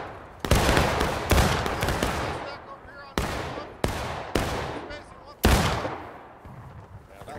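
Muskets fire in War of Rights, a game of American Civil War battles, in loud, sharp cracks with long, rolling echoes. About six shots come at uneven intervals, some close and some farther off.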